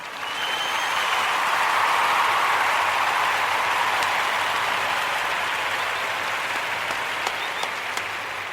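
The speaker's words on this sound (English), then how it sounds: "we want to give all of the Nia babies a round of applause" A long, even round of applause at a Nia celebration during Kwanzaa honouring the Nia babies, many hands clapping in a dense, sustained wash that swells slightly early on and holds steady until the end.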